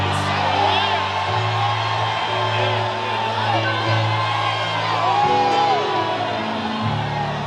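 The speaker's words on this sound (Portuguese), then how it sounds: "Se tem alguém que acredita nisso, dê um grito de glória" A church congregation at a Portuguese-language service shouts and cheers together in a loud, sustained burst of crowd voices, rising again near the end, with a preacher's amplified voice carrying over it.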